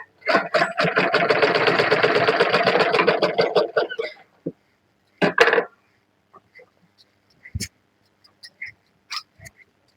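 A sewing machine stitching a double katori blouse seam runs in a fast, loud burst of rhythmic needle clatter for about four seconds, then goes quiet except for a brief second run and scattered handling clicks.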